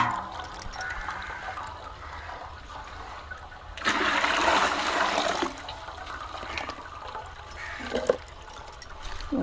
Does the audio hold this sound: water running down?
yes